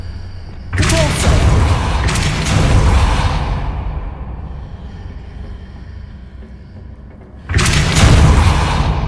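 Heavy magical spell impacts from a Hogwarts wizarding video game, a loud booming blast with a whooshing rumble that fades slowly, then a second powerful burst near the end, with no talk over it.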